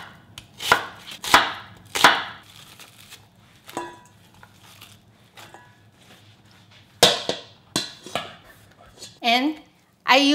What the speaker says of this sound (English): And onion. Just chop this up.